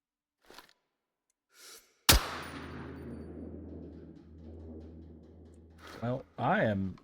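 A single loud, close gunshot in the video game Incursion Red River rings out with a long, fading reverberant tail. A voice starts talking afterward.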